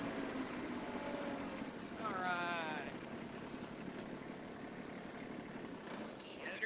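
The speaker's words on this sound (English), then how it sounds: "I had to bring the skid steer over here to get these logs up." A skid steer engine runs at a sawmill, a steady low mechanical rumble and drone that continues throughout while someone talks over it.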